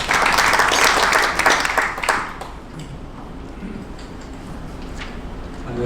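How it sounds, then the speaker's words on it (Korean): Audience applause at a construction industry breakfast forum greets an incoming moderator. The clapping is loud and dense for about two seconds, then fades quickly into quieter room noise. "큰 박수로 맞으시기 바랍니다"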